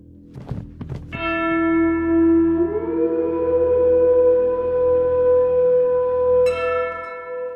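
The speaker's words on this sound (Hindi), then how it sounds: "क्षितिज बदलते ही घंटियां बजी।" A church bell tolls in a legend of the martyr St. Devasahayam Pillai, opening with a few quick knocks before one long, loud, ringing stroke sustains and swells, then a second strike lands near the end, echoing alone without voices.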